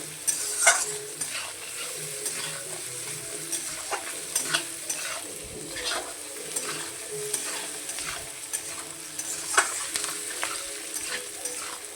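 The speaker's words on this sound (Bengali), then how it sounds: "এর মধ্যে একটু হলদি আর একটু লবণ দিয়ে দিলাম, দিয়ে একটু ভাজা করে নেবো সুন্দর করে।" Potatoes fry with turmeric and salt in a pan, giving a continuous sizzle broken by repeated scraping, stirring clinks close by and no talking.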